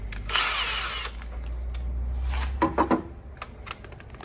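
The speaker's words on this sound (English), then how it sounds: "drill some pilots in our wood mount and then drill through the hood." A power drill whirs close up for a couple of seconds drilling pilot holes in a wooden mount, then stops, followed by light clicks and handling noises.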